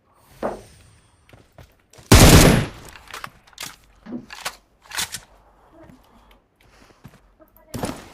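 Gunfire sounds in a video game: sharp bursts and single shots, one loud burst standing out, spread among quieter thuds and footsteps, while players talk between them.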